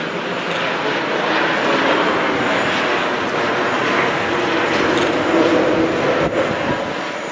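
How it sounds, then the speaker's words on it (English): A Qatar Boeing 787 airliner makes a flying display at Farnborough about a quarter mile away, a loud continuous roaring jet engine rush that swells slightly as it passes. "Listen for this jet."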